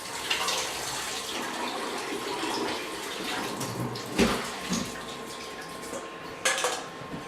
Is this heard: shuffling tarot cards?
no